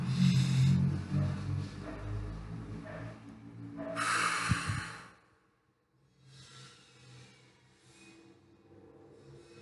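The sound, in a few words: slow breathing exercise, inhaling and exhaling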